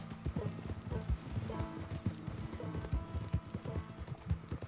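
Horse hooves gallop in a steady clip-clop rhythm in Red Dead Redemption 2, a continuous drumming of beats close up, with faint in-game background sounds.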